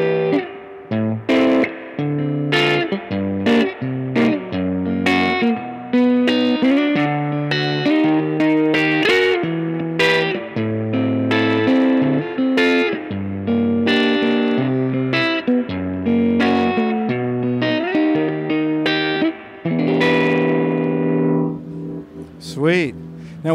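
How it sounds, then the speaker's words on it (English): An overdriven electric guitar through a Supro Blues King 12 amp, with the power section driven, plays chords and riffs with a punchy, gritty tone and a reverb wash, ringing continuously at close range. "So I'll just get like a punchy sort of gain thing here."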